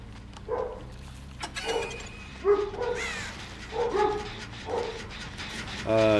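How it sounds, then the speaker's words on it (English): A dog barks in several short bursts from a distance, with a sharper yelp near the end. "Oh, and my dogs are barking."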